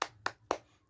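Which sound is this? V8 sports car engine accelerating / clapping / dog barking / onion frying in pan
clapping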